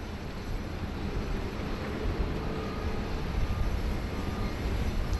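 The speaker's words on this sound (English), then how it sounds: "We are anticipating the Qantas 64 to taxi here onto bay number 9." A Qantas airliner taxis at Sydney Airport toward its gate, a steady distant jet engine roar with a constant low rumble and faint high whine, no talking.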